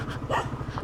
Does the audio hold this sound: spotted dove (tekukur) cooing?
no